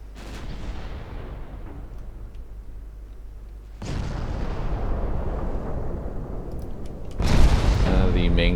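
Battleship main and secondary guns fire in the naval game Ultimate Admiral Dreadnoughts: two heavy booming salvos strike over a constant rumbling roar, with someone talking throughout.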